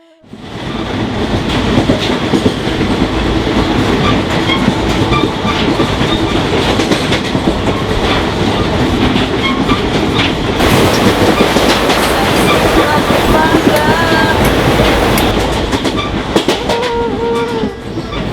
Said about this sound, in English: we arrived in the train